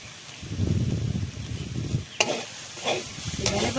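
Ghee sizzling and frying in a pan while a spatula stirs and scrapes, with a dense crackle under intermittent clinks, close and steady throughout.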